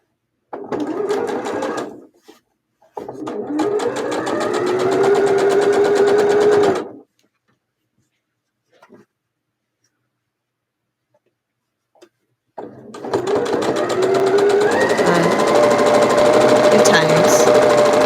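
A sewing machine stitches a pinwheel quilt block in two loud steady runs of rapid mechanical whirring, separated by a pause of several seconds, with no talking over it.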